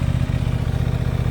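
A 2022 Aprilia Tuono 660 Factory motorcycle runs cold right after start-up, giving a close, steady, throbbing engine note with a brief lift in revs and no talking.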